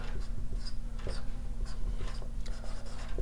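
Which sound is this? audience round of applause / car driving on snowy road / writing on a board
writing on a board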